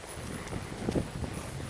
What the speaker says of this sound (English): There's a nice black horse, Hampton.